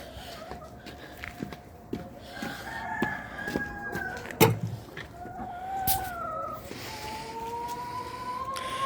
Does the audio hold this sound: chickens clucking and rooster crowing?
yes